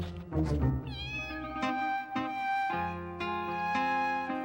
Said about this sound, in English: I must leave Pablito the cat here.